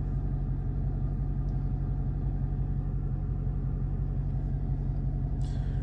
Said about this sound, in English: You like the whine? Why? The Hellcat noise.